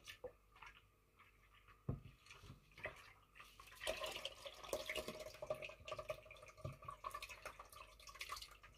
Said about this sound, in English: I'm just going to pour that in with this.